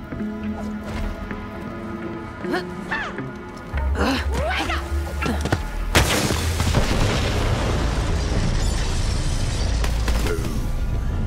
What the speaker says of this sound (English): The explosion echoed through the forest, and those devil riders didn't even get a chance to hit the brakes.